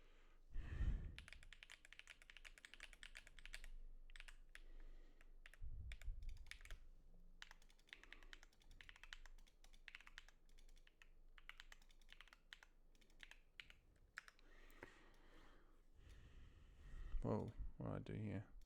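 Computer keyboard typing: bursts of quick, close key clicks and taps run through most of the stretch, pausing now and then, with low murmured talk in the background.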